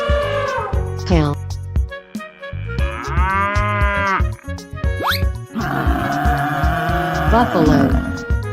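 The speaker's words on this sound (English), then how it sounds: "Cow." Cartoon-style cow moos in a children's animal-sound sequence, a couple of loud drawn-out calls with pitch sweeps, layered over busy music and effects that fill the whole stretch.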